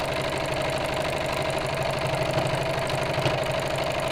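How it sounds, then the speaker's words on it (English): Sewing machine top stitching along a fabric edge, a close, fast, even mechanical chatter of the needle running continuously over a low motor hum, no talking. "I can top stitch all around the edge, just to hold that in place neatly"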